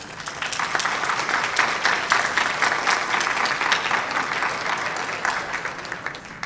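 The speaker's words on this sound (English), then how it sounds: "So let's do a quick round of applause for you all." Audience at a rural broadband conference gives the panel a round of applause, sustained dense clapping that swells, holds, then gradually thins toward the end.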